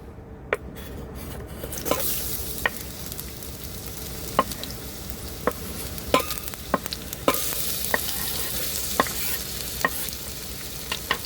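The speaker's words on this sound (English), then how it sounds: "oil's hot enough to use now. We're going to drop in our onions." Onions sautéing in hot oil, a dense bright sizzle rising right after they drop in, punctuated by regular clicks and scrapes of a utensil stirring the pan.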